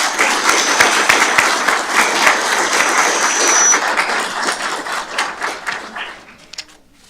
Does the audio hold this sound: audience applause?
yes